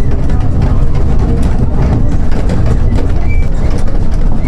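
Steady low rumbling hum of a trolleybus moving along, dense and continuous with faint higher whining tones drifting over it, close and fairly loud.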